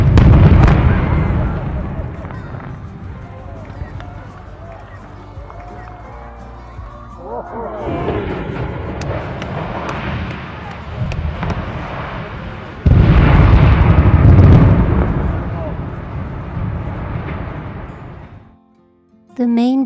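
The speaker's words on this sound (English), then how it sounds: "the twin chimneys and turbine hall being demolished in a controlled explosion" Controlled demolition blasts bring down the twin chimneys and turbine hall of a power station on the East Lothian coast: loud booms, one sharp renewed burst partway through and a long rumbling collapse, followed by brief cheering-like noise at the end.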